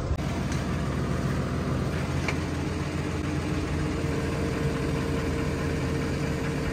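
Tractor engine running steadily at a low, even drone while lifting a new Lemken Juwel 8 plough on a farm, fairly faint and constant with no talk.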